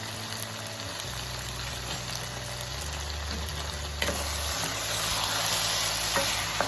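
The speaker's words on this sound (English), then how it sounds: "stir everything very well" Chicken gizzard fried rice with curry powder is stirred in a hot pan, a continuous close sizzle and frying hiss with soft scraping of a spoon that grows slightly louder toward the end.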